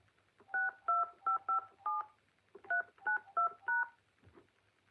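A phone keypad sends a quick run of DTMF tones while a phone number is entered, two bursts of short, evenly spaced beeps separated by a brief pause, clear and close in a quiet line.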